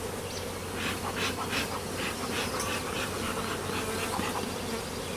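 A honeybee swarm being swept into a box gives a dense, continuous buzzing drone, close and steady, with brush sweeps and bumps mixed into the hum.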